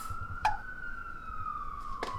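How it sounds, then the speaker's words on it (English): A siren wails on a New York City street, one steady falling tone held across the whole stretch over low traffic rumble, with short bangs near the start and the end. "Never not a siren"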